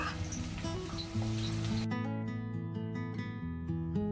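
Sliced onions frying in refined oil until thin, crisp and golden brown, a soft steady sizzle that runs alone through the whole clip.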